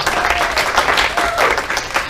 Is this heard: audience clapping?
yes